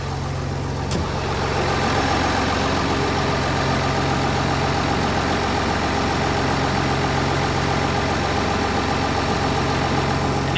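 A car engine idles steadily up close while the A/C compressor cycles on, making a continuous, dense mechanical drone with a faint click near the start and no talking over it.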